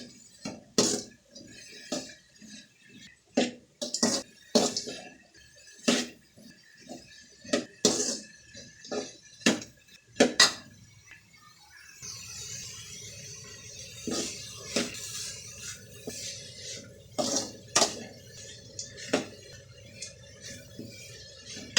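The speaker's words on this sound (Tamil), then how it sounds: "காய் நல்லா வதக்கிக்கணும்." Grated carrot and beetroot being sautéed and stirred in a pan with turmeric, sharp irregular clinks and scrapes of a metal spoon against the pan, then a quieter stretch with a soft sizzle under further stirring knocks.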